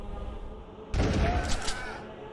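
Shotgun fire in the retro first-person shooter Darkenstein 3D, a sudden loud burst of blasts and booming impacts lasting about a second over a low game ambience.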